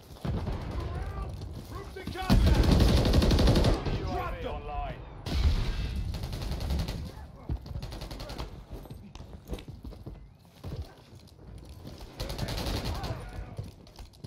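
Bursts of rapid gunfire in Modern Warfare 3, loud volleys with quieter stretches between, mixed with game effects while players talk over the action.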